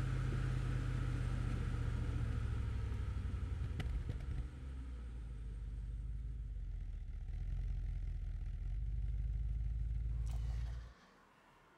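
A 1971 Mercedes-Benz W109 300 SEL 6.3 with its 6.3-litre V8, a loud steady low rumble and hum under way for about ten seconds, then it falls away abruptly near the end, with no voices.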